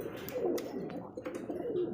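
Pigeons at a breeder's farm give soft, throaty coos close by, in a few repeated rolling calls over a low murmuring background.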